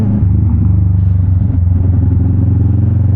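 A car engine drones loud and close with a steady low rumble as the driver shifts down a gear, the pitch wavering slightly, with no talking.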